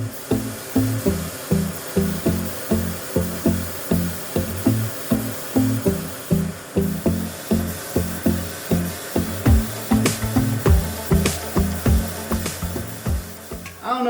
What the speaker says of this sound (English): let's load up the gun and let's spray Zephyr down.